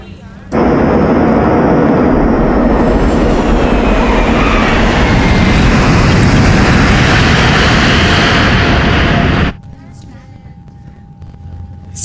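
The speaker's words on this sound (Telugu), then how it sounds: "మన ఫ్లైట్ని గోవాలో ఎమర్జెన్సీ ల్యాండింగ్ చేస్తున్నాం" An airliner in flight making an emergency landing in Goa, in a comedy film scene, gives a loud, steady roar that holds for about nine seconds, then cuts off abruptly into quieter background.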